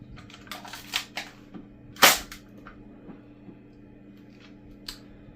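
A Nerf Cyber Stryke StrongArm blaster fires a dart: one sharp, loud plastic snap-pop up close, among quieter mechanical clicks and handling, no talking.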